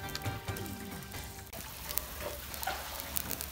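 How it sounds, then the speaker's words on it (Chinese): Yellow croaker slid into boiling braising liquid, a soft steady sizzle and bubbling with faint clinks, quiet and close, with no talk. "开锅以后，咱把这个鱼放进去。"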